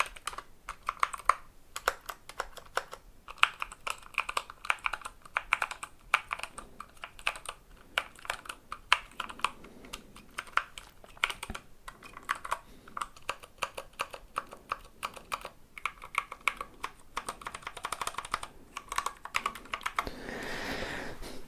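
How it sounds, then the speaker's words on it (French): Continuous typing on a custom mechanical keyboard with Helios V2 switches, rapid clacky keystrokes close up, steady with brief pauses and a faster flurry near the end. "C'est un clavier customisé."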